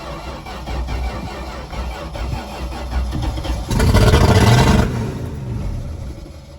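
Plymouth Valiant engine cranking and catching, then a loud burst of revving from a sticking gas pedal before settling back to a steady running rumble, close up.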